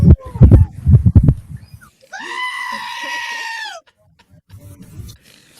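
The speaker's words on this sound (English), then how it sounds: "You didn't officially heard a goat scream." A goat screams in a loud, drawn-out, quavering bleat lasting well over a second, heard through shared audio after a burst of excited talking, with faint murmuring afterward.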